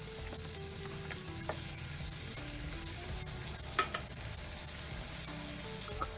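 Chicken innards frying and sizzling in a pan for chicken dinuguan, a steady close crackle with occasional stirring clinks and scrapes, no talking.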